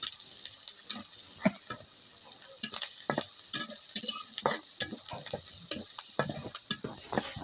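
Chopped onion and chili frying in extra oil in a pan for a Bangladeshi fish roe bhuna: a constant close sizzle broken by frequent scraping stirs of a spoon.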